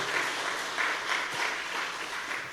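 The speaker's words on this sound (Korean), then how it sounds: "이럴 때는 박수를 한번 쳐줘야 되는데" A church congregation applauds with dense, steady clapping that swells slightly in waves, heard from a middle distance in a large room.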